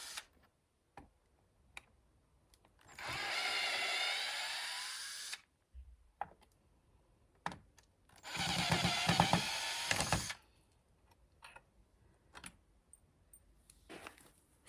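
A power drill drives screws into an old backyard gate in two sustained whirring bursts, each a couple of seconds long, separated by quiet gaps with light clicks and knocks.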